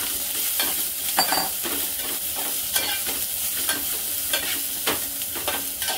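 Fresh tur (pigeon pea) beans roast in a hot pan with curry leaves and cumin, stirred steadily. A constant sizzle runs throughout, broken by repeated scraping strokes of the spoon, close and fairly loud, with no talking.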